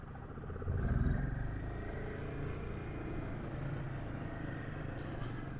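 Royal Enfield Himalayan 450 motorcycle pulls away: a low engine rumble swells near the one-second mark, then settles into a steady, moderate drone as the bike rolls on, with no talking.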